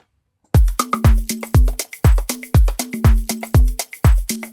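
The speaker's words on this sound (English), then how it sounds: "Let's choose this clap right here." A single clap sample from a drum sample pack, repeated in a steady groove after a brief silence, each hit sharp, dry and punchy with a quick tail, loud and alone.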